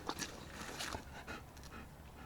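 A dog pants close by in an outdoor spring ice-fishing setting, quick breathy huffs in a steady rhythm, soft and faint against light background noise.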